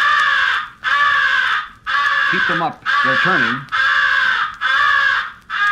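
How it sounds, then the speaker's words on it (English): Crows caw loudly in repeated bursts, answering crow calls during a crow hunt from a blind near a roost. The harsh calls come in a steady rhythm with short gaps, and someone speaks briefly in the middle. "Here is a crow hunting sequence."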